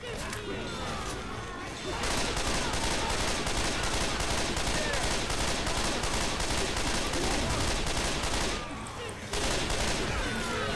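Sustained automatic gunfire and shotgun blasts from the Left 4 Dead video game, loud and dense for most of the stretch, with brief lulls, while a player shouts over the shooting.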